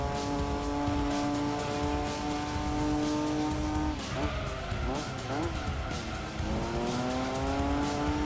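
A 390 hp Nissan Skyline race car in Gran Turismo 2 holds a steady high engine whine, then wavers as its back end slides out, with faint tire squeal before the engine note settles again; a voice may be speaking underneath.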